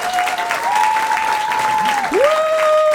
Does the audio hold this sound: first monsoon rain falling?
no